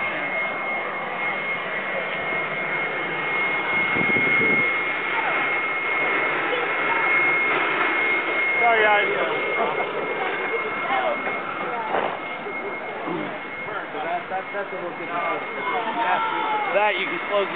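A steady, dense mechanical roar fills the whole stretch from a cupolette iron-melting furnace running nearby, with people talking over it.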